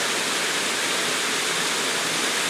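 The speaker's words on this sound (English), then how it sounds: "This was a great hike into Lost Creek Falls. The falls is running good." Lost Creek Falls pours steadily, a loud, dense and unbroken roar of rushing water heard up close with no other sounds.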